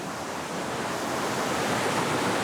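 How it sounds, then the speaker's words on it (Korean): A waterfall pours beside a cathedral sanctuary built in 1858, a steady, loud broadband rush of falling water filling the whole stretch without pause, heard close with no voices. "성당 옆에 이렇게 생명수처럼 폭포가 쏟아지고 있고요."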